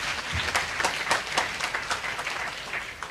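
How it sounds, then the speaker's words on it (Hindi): A church congregation claps in irregular, scattered bursts, a loose and moderately close round of hand claps without any voices over it. "सब जन बैठ जाओ और ताली बजाओ परमेश्वर की महिमा के लिए"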